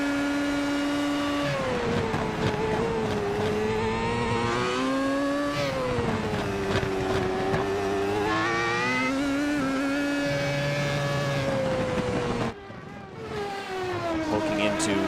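A Formula-style race car in iRacing screams at high revs down a straightaway, its engine pitch rising and dipping through upshifts, with a sudden lift and drop near the end, while someone commentates over it.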